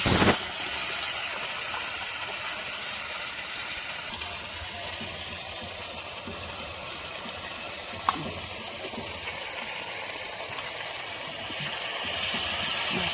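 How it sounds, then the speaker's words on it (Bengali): Ground onion, garlic, ginger and cumin paste fries in a pan for a meat curry, giving a steady, loud broadband hiss and sizzle with a faint clink partway through. "সুন্দর করে মশলাটা ভাজা করে তার মাংসটা"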